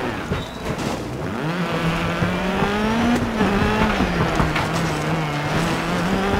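A rally car in the DiRT 4 video game drives on a flat right rear tyre, its engine droning loudly and continuously with wavering pitch and gravel noise, close and without pause.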